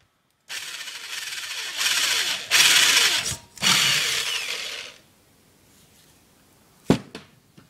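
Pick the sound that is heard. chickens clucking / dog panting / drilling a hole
drilling a hole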